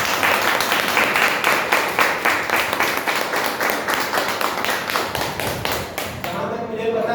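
Dense, sustained audience applause at an event in Sasaram honouring Mother Jagdamba, a thick rapid patter of many hands that stays loud throughout before dropping away abruptly near the end.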